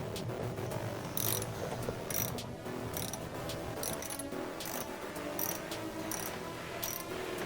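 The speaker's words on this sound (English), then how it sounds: "I grabbed my torque wrench with 10mm socket and tightened the screws" A torque wrench with a 10mm socket tightens hex flange screws on an ATV battery plate, giving a close, steady train of quick metallic ratchet clicks that arrive in short, regular bursts.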